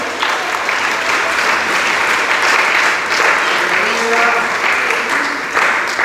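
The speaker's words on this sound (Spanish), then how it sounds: "Dale palmas al Dios del cielo." Church congregation claps hands together in a steady, loud, sustained round, with voices mingling in the background throughout.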